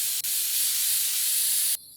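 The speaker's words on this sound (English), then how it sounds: "You just hold the button, blow around with the can some" A can of compressed air sprays a steady, loud hiss while cleaning a computer in PC Building Simulator, one continuous blast that cuts off abruptly near the end.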